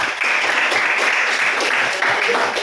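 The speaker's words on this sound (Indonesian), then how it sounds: "kita tepuk tangan untuk Jeremy" Students in a classroom give steady, dense applause for a classmate named Jeremy, close and continuous throughout.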